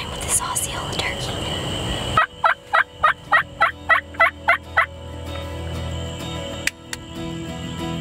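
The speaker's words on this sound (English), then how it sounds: "I'm getting ready to complete my Grand Slam with this Osceola turkey." An Osceola wild turkey gobbles loudly nearby, a rapid string of about ten sharp gobbles after some rustling and faint whispering, then quiet outdoor background.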